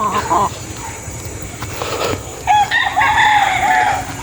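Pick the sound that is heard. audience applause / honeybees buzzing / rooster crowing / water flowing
rooster crowing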